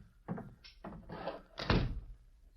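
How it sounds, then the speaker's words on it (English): An indoor door is handled and pushed shut with a few soft scuffs and knocks, ending in one firmer thunk near the close; fairly quiet and close, with no talk over it. "Please step outside and close the door."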